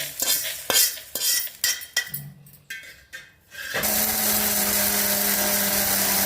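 A mixer grinder grinds curry leaf powder in short pulses with brief pauses, then settles into a loud, steady whirring run that continues to the end.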